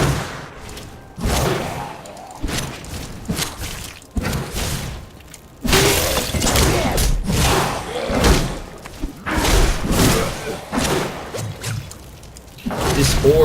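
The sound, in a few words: magic missile spell cast in the video game Diablo III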